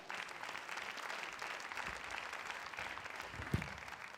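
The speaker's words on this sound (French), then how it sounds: "Vous l'applaudissez, s'il vous plaît." Applause at a French corporate event, a faint, steady patter of clapping from a seated audience, fairly distant, with a single louder knock near the end.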